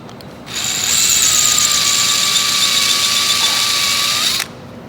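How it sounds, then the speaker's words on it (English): A power drill bores out the plastic measurement pipe of a DEF sensor, a loud steady high-pitched whine running for about four seconds before cutting off abruptly. "So now your suction or your measurement pipe, you're going to need to drill it out."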